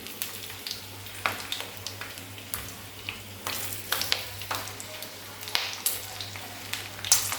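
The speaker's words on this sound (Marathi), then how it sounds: "तर अशा प्रकारे आपण आता सर्व मिरच्या व्यवस्थित फ्राय करत ठेवल्या." Stuffed besan chillies fry in a pan of hot oil, giving a faint, steady sizzle broken by small pops and light scraping stirs at irregular intervals, with a low hum underneath.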